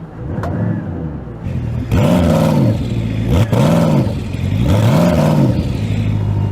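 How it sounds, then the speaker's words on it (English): A 5-litre V8 Koenigsegg supercar engine revs up in drive and drops back three times in a row, loud and close, each rise a throaty roar over a steady idle. "we can make some sort of sound with it because we've still got a 5-litre V8"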